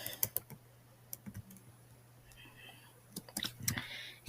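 Quiet typing on a computer keyboard, scattered light key taps in short clusters separated by pauses, close and soft, no speech.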